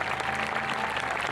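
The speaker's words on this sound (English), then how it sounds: "Give her a round of applause." Audience applause at a school promotion ceremony, a short burst of steady clapping from a crowd, dense and even throughout with no voices on top.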